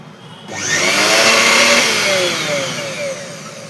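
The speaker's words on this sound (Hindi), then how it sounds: "हम एक बार अब इसके मेन लाइट लगा के चेक करते हैं कि हमारी मिक्सर सही से कंप्लीट हो गई है" A repaired mixer grinder motor switches on after a quiet moment and runs with a loud, steady high-pitched whine that swells and then eases slightly, close by and alone.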